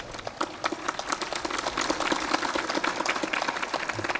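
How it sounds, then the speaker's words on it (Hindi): An audience at a Hindi spiritual discourse claps together in dense, sustained applause, moderately faint and continuous for several seconds. "थोड़ा ताली भी जोरदार बजाओ।"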